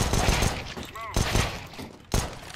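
Gunfire from a video game comes in a few short, punchy bursts over a couple of seconds, with a voice talking alongside.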